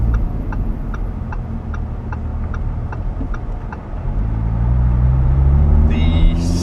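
A Lamborghini Huracan Spyder with a naturally aspirated V10 starts as a low idle rumble, then the engine note swells and rises steadily as the car pulls away, with a faint ticking over the top.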